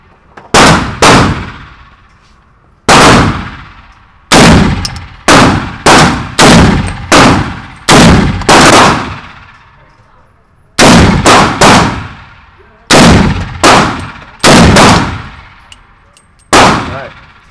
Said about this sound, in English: 10 yards test with the 300 Blackout 147 grain Winchester